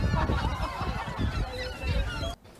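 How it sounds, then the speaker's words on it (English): Loud, close honking bird calls repeat in a rapid squawking cluster, nearly continuous for over two seconds before breaking off. "here's the classic seagulls"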